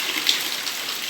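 Heavy rain pouring down in Maceió, a steady broadband hiss of falling water and splashing runoff, continuous and fairly close, with no voices.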